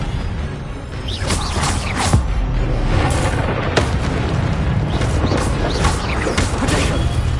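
Expelliarmus spell being cast in Hogwarts Legacy, a dense run of booming, crackling magic blasts and impacts repeating across the whole stretch, loud and steady with sharp bursts standing out.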